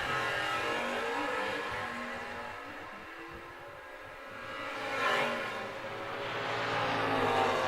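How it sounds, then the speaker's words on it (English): A 1967 Camaro launches off the line in an outlaw drag race, its engine roaring loud and sustained as it accelerates down the strip, the sound swelling and fading with the pass, with no talk over it. "Corky with the big hole shot win on Donnie Vaught"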